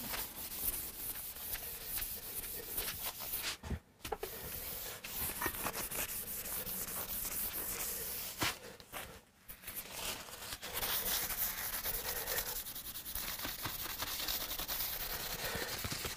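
A Hofner Galaxie guitar's finish is burnished by hand, a steady close rubbing hiss that carries on for many seconds, broken by two brief pauses.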